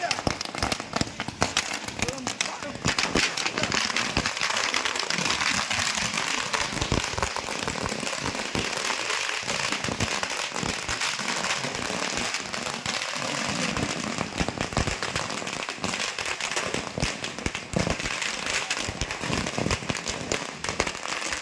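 Firecrackers bursting at major street circles during a party workers' celebration, dense rapid crackling and popping that runs nonstop and loud, with a voice talking over it.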